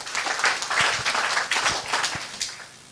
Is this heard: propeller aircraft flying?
no